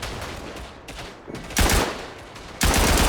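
Heavy bursts of gunfire from a World War I machine-gun emplacement in the game Tannenberg, with sustained broadband crackle and two loud, close volleys starting partway through and near the end.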